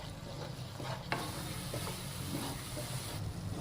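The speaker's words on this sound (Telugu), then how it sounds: "ఇప్పుడు గట్టి పడే వరకు దీన్ని మనం చక్కగా కలుపుకుందాం" Coconut laddu mixture cooking in a pan on a stove over medium flame, stirred until it thickens: a soft, constant sizzling hiss with faint scraping of the spoon, fairly quiet and close, with no voices.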